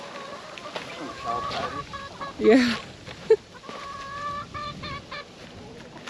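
Hens clucking inside a backyard chicken coop, with a few short, sharp fowl calls standing out near the middle over a low background, and a brief voice.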